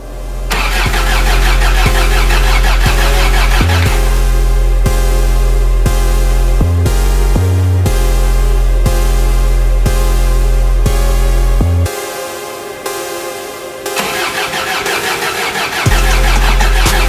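A Toyota fitted with a swapped TDI diesel engine and a new turbo cranks loudly and steadily for several seconds, pauses, then cranks again before the diesel catches with a rough, close, rumbling start.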